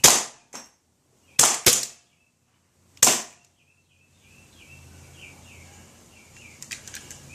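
Sharp, loud gunshots in a VR shooting game ring out in a quick burst of five cracks with silence between them. A faint hissing and clattering follows.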